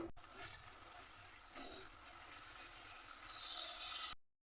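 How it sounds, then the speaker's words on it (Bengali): Water running and pouring into a pan of spiced egg and potato curry (dim aloo kosha) being cooked down, a steady close splashing hiss lasting about four seconds before stopping abruptly. "আর একটু সামান্য জল দেবো আর একটু মশলা কষাবার জন্যে।"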